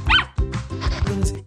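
A cartoon dog barks in an animated commercial for a dog bath soap, a few short yips and barks over a bright musical background.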